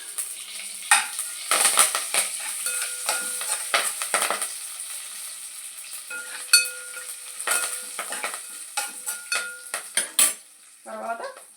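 Curry leaves dropped into a hot oil tempering in a pan, a light sizzle under repeated metallic clinks and scrapes of a spoon stirring against the pan, with irregular sharp taps throughout.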